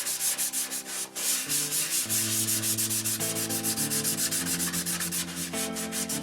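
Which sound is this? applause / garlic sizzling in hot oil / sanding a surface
sanding a surface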